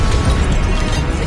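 A Confringo blasting spell explodes in Hogwarts Legacy, a loud, dense burst of crackling blast noise filling the whole short moment with no voice over it.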